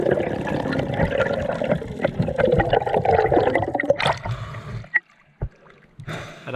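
A spearfisher swims underwater back toward the surface, steady muffled water rushing and churning close around, then a sudden quiet broken by a couple of sharp splashy pops before the turbulence returns.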